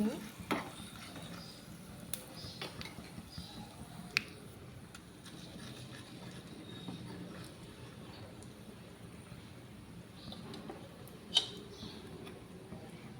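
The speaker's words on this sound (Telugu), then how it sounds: "మంచిగా పోపు అంతా వేయించుకోవాలండి ఇవన్నీ" Tempering spices, including red chilli and peppercorns, fry in oil in a pan for tomato rasam, giving a steady low sizzle throughout with occasional sharp ticks and clinks of stirring, quiet and continuous with no talking.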